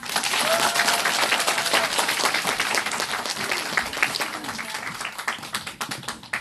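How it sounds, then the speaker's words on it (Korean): An audience at a morning lecture session breaks into loud, sustained applause for the lecturer, dense clapping that starts strong and slowly thins over about six seconds. "열정적으로 강의해 주신 장명희 선생님께 다시 한번 큰 박수 부탁드리겠습니다"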